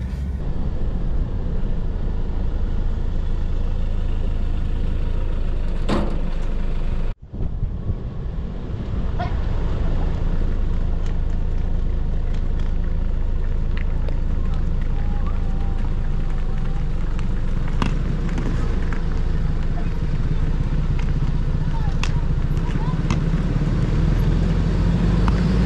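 A car drives along a road toward a hotel in Gambia, a steady rumble of engine and road noise with wind buffeting throughout and a brief thump partway through.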